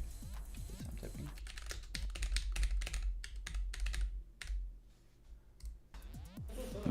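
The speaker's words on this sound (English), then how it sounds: "See if I'm typing." Rapid clicking of keys on a computer keyboard, close and fairly quiet, in uneven bursts with brief pauses.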